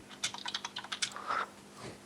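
Quick bursts of keystrokes on a computer keyboard, close and clicky, then a short pause and a soft thud.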